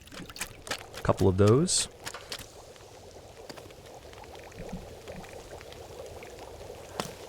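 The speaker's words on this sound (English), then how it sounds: "Let's go ahead and boil a bit more there, because we're not going to be able to do much without water." Water pours and splashes briefly as it is poured for boiling in The Long Dark, a survival video game, in a short close burst while someone talks over it.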